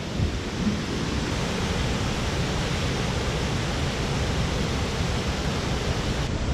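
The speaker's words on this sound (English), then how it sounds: "Pretty impressive waterfall." Hanging Spear Falls in the Adirondacks roars in a dense, steady wash of rushing water, unbroken and loud, heard from close by.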